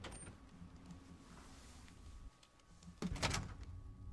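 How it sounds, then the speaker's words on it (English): Outer doors in Fallout 3 unlock and open: a low mechanical whirr runs for a couple of seconds, then after a brief lull a louder clanking, grinding burst as the doors move. "Unlocking outer doors."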